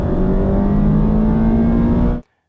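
The high-compression engine of a 2024 Mazda MX-5 GT RS with a manual gearbox revs loudly and close. A rising, strained engine note holds steady for about two seconds, then cuts off abruptly into silence.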